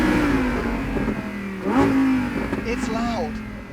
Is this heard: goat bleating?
no